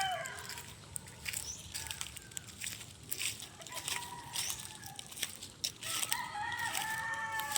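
Chickens and a rooster on a small farm: repeated clucks and a crowing call ring out over a busy outdoor background, fairly distant and moderately quiet.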